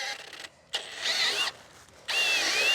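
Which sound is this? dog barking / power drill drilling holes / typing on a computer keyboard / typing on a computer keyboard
power drill drilling holes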